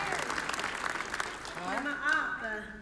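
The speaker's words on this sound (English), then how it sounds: "let's give a round of applause" Applause for a contestant at the Miss Indian World pageant in Albuquerque, a steady crowd clapping with a voice speaking over it partway through.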